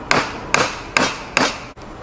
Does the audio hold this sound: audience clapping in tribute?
no